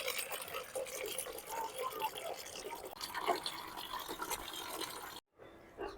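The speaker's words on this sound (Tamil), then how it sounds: "இப்போ இதில் நம்ம தண்ணி பிடிப்போம்" Water runs into a container in a home garden, a steady soft splashing stream that goes on for several seconds and then cuts off briefly near the end, with nobody talking.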